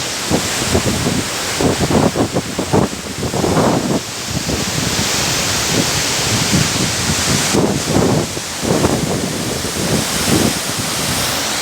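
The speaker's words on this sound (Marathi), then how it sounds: "सांड्याहून पाणी पडत आहे" Water from the full Dombari dam lake pours over the spillway in a loud, continuous rushing roar, heard close up with gusts of wind buffeting the microphone.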